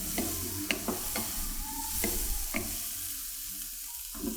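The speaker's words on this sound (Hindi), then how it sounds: "दरमियानी आंच पे अब मैं इनको तकरीबन 1 मिनट के लिए फ्राई कर रही हूँ।" Food frying over medium heat in a pan during pasta with white sauce preparation, a continuous sizzle broken by repeated sharp stirring scrapes and clinks at irregular intervals, close and with no talking.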